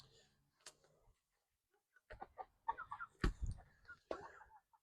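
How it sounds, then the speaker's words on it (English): Meat chickens on a homestead cluck and murmur in short, scattered bursts, fairly close but soft, with a few sharper calls toward the end. "These are my meat birds."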